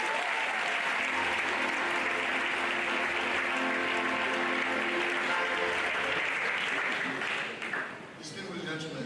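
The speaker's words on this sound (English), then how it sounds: "Can we give him a round of applause?" Sustained applause from an audience at an academic lecture honouring a professor, a dense wash of many hands clapping that holds steady for several seconds, then thins and fades out near the end.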